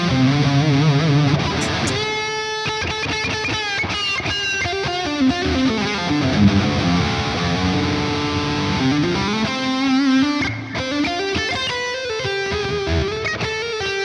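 Electric guitar notes played through a Waves CLA Epic delay and reverb plugin ring out with a washy echo and reverb tail, sustained chords and melodic lines blending together, no voices.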